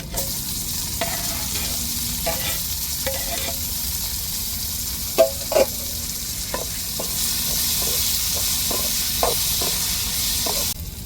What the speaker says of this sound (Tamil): இப்போ தக்காளியை சேர்த்துருவோம்